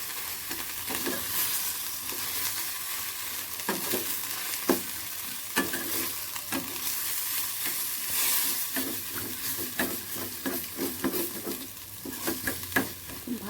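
A spice masala for fish fries in a pan under quiet, even sizzling, punctuated by scattered clicks and scrapes of a stirring utensil, with no voices.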